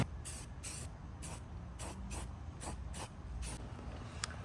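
Rust-Oleum clear coat is sprayed from a can over a white painted surface in a series of short, repeated hissing bursts separated by brief pauses, fairly close and with no talk.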